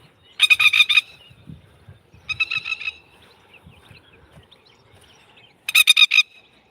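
Goose or similar aggressive fowl guarding eggs on a rural lifestyle property in New Zealand, giving three loud bursts of harsh, rapid honking separated by quieter gaps, with faint low background rustle between calls.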